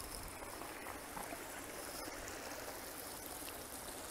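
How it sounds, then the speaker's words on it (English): A small stream flows through a garden in Queenstown, a steady continuous wash of trickling water that stays constant throughout, fairly near with no voices. "A little stream here."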